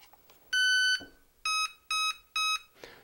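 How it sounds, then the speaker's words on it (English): Electronic speed controller in an RC model giving a series of electronic beeps as its battery is plugged in: one long tone, a short pause, then three shorter evenly spaced beeps, clear and close with no talking. "notice the sound you heard is the speed controller"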